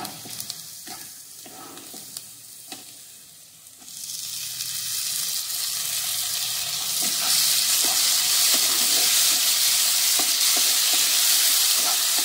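Chopped tomato fries in a pan for palak paneer, stirred with soft scraping taps. A quiet sizzle swells into a loud, steady hiss halfway through as the tomatoes hit the hot oil, then holds.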